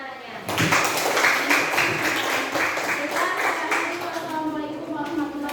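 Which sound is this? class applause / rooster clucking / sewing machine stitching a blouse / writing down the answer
class applause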